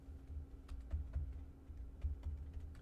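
Quiet typing on a computer keyboard, a few soft keystrokes in small irregular clusters over a low steady hum, close by and with no one talking.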